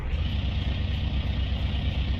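An Aston Martin engine idles in Car Mechanic Simulator 2021, a steady, close low rumble that holds even and unbroken throughout with no voices over it.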